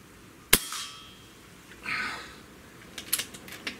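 A Benjamin Akela PCP bullpup air rifle fires and a pellet strikes a shotgun shell: one sharp loud crack followed by a short ringing tail, then a few fainter clicks and knocks.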